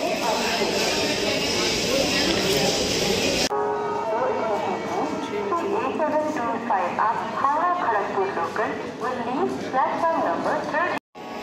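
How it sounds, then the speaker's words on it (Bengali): A loud, broad rumble of the Howrah–Kalka train gives way to a busy mix of rattling, tonal clangs and voices as it rolls into the station. "আমাদের ট্রেন কিন্তু স্টেশনে ঢুকে পড়েছে।"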